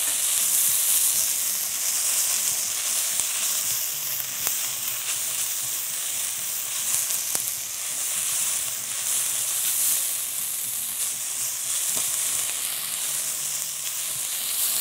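Vegetables fry in a hot pan for chicken Cajun pasta, making a loud, continuous hissing sizzle that holds steady throughout, with no talking.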